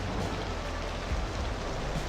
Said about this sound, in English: Is the water level rising with the rain?